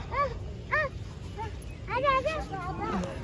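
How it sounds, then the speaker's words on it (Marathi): Several dogs at a crowded Navratri temple gathering give short, high, yelping whines in quick bursts, close by over a busy background murmur. "सगळ्या कुत्र्यांनाच खाऊ घालून द्या"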